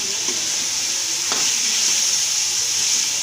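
Chicken with chilli and lemon juice fries for biryani in a pan, giving a steady, close hiss of sizzling with a faint stirring scrape partway through.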